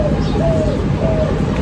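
A spotted dove imported from Malaysia coos in soft, low, repeated notes, close and clear over a faint background hum.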